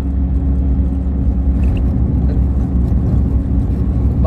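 A car drives along a village road near Karapınar, Bartın, with a steady close engine hum and road rumble that holds evenly from start to finish, no voices.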